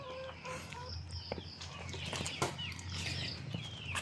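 Organic chickens clucking and rustling around in a busy farmyard in Tarlac City, with scattered calls and wing flaps over steady low background noise.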